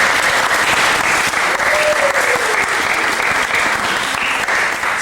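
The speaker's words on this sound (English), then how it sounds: "you guys need to give these students a round of applause" Loud, dense audience applause for students at a summer symposium, a continuous roar of many hands clapping close by, with a brief faint tone gliding through the middle.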